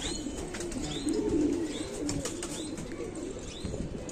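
Sialkoti pigeons in a loft, with soft low cooing murmurs and faint high chirps over steady background noise, close and continuous.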